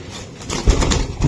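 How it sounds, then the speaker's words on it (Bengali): Wings flap in a quick burst as a pigeon takes off, a brief fluttering rush close by. "উড়ার জন্য কতটা সুন্দর চটপটা কবুতর"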